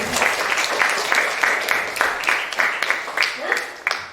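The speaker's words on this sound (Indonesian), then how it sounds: "Tepuk tangan untuk kalian." A classroom of students claps together in dense, rhythmic bursts during an Indonesian maths lesson, loud and close, with a few voices mixed in.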